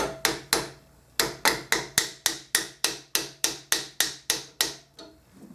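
A heated, soldered joint on a brass slide trumpet is tapped about fifteen times. The sharp metallic knocks fall in a steady rhythm, close and distinct, after a short pause near the start.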